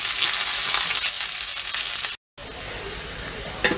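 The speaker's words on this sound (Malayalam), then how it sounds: "അതിലേക്ക് ഒരു ചെറിയൊരു സവോള അരിഞ്ഞിട്ട് അതും കൂടി ചേർത്ത്" Chopped onion frying in hot oil with curry leaves for a samosa filling, giving a steady, close, loud sizzle that cuts out briefly before resuming, with a small pop near the end.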